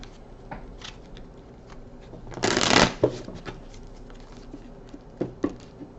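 Tarot cards being shuffled in a quick riffle, one loud burst in the middle with lighter flicks and taps around it, close by.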